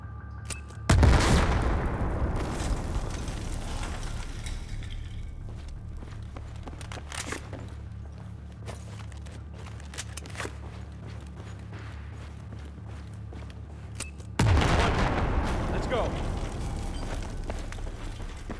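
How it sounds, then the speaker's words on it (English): Two heavy in-game explosions blasting through a wall in Battlefield 4, a loud deep boom near the start and another near the end, each with a long rumbling tail over steady low battlefield ambience. "Do it now, blow the damn wall. Fire in the hole, everybody!"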